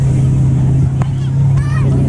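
A red Ferrari sports car at a racetrack gives a steady, close engine drone throughout, with a brief rise near the middle, while voices chatter over it.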